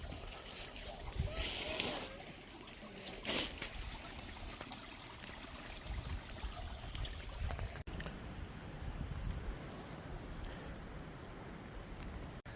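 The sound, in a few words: small spring flowing down off the mountain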